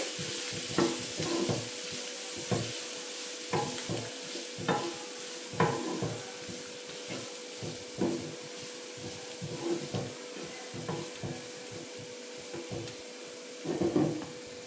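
Grated coconut stirred into paniyaram mixture in a pan with the stove off, soft repeated scraping strokes at a steady rhythm over about fifteen seconds, close and fairly quiet.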